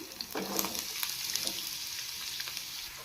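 Onions, added after green chillies, fry in oil in a pan for a spicy egg and drumstick-leaf side dish, giving a soft, steady sizzle with light scraping stirs.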